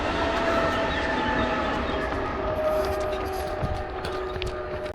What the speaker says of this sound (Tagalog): May train na.